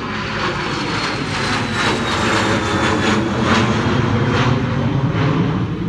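A Gulfstream business jet roars steadily and loudly on takeoff with a broad rushing engine noise, holding near-constant intensity throughout.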